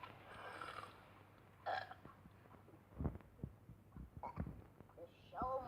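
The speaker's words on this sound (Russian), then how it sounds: "У нас соревнования по отрыжке, мам." Cartoon characters hold a burping contest in an early episode of The Simpsons. Several short, quiet belches are scattered among brief voices and other noises.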